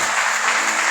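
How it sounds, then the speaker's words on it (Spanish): A church congregation applauds together in a steady, dense wash of clapping that fills the room at even loudness throughout, with no voices standing out. "Dale un fuerte aplauso al Señor."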